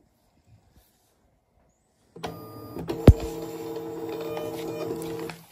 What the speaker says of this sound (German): Jetzt wählen wir den richtigen Drucker aus und sagen drucken.